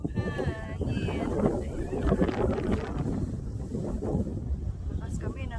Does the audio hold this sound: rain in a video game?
no